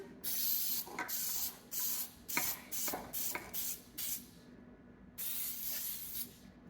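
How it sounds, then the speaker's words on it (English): Short hissing bursts of aerosol cooking spray onto a tube cake pan, several quick sprays in a row, then a pause and one longer spray, close and clear. "We're going to spray our tube pan."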